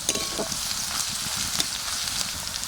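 Sliced onions and green chillies frying in a pan for a young jackfruit curry, a steady close sizzle with small crackles, no talking.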